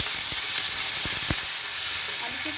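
Chopped onions fry for alu posto in a pan, giving a steady, loud, bright sizzle throughout, with a few faint stirring knocks and no talk.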